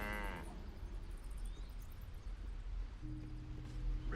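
A cow moos loudly in Baldur's Gate 3, one long lowing call with a rich harmonic tone at the start, followed by ambient game background and a low steady hum.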